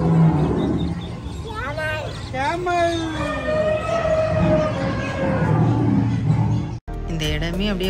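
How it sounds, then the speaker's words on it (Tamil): Animal roar sound effects play over loudspeakers at an exhibition animal display, a long rising and falling roar dominating the middle, with a crowd murmuring beneath and a brief cut near the end. "நிறைய அனிமல்ஸு, பயங்கர சவுண்ட் எஃபெக்டோடு இருந்துச்சு"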